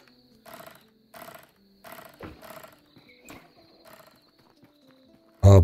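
A horse in the video game Tavern Manager Simulator: a series of clip-clop hoof bursts in a regular rhythm, fairly quiet, over faint crickets, ending with a sudden loud snort or whinny.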